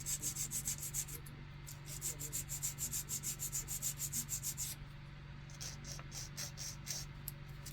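A soft grit nail file rubs quickly back and forth across fingernails in fast, even rasping strokes, close and steady, with a short change in rhythm near the end and no talking.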